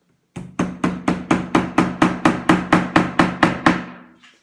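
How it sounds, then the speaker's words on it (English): Steady hammer blows striking scrap wood while fitting a part into place on a toy robot build, about fourteen evenly spaced sharp knocks, close and loud, with no voices. "I'm just going to hammer it into place."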